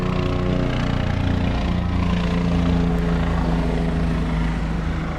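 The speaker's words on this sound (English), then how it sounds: "air traffic control at the Guyman Airport has been busy today with all these planes and helicopters flying around" A continuous droning aircraft engine with a steady thrumming tone, loud and sustained, from helicopters and planes flying overhead near an airport during a parade.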